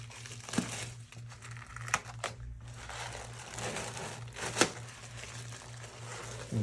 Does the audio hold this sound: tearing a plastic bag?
yes